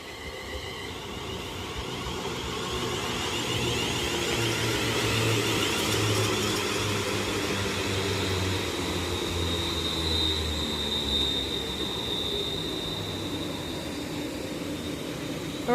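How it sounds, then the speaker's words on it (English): Class 350 electric multiple unit pulling into Stechford station, a steady low rumble and mid-range hum holding at moderate loudness throughout, with faint rail squeal and no talk. "I'll see the next train arrives and passes through."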